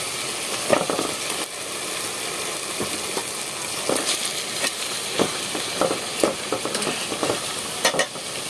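Pieces of folui (chitol) fish dropped into spice paste that has been fried down, giving a steady broadband sizzle throughout with scattered stirring clinks and scrapes, no talk.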